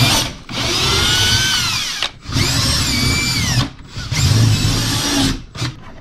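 A power drill bores a snug threaded hole for a fitting in a DIY racecar cooling-shirt setup, running in three sustained whining bursts with short pauses between them, loud and close with no talk.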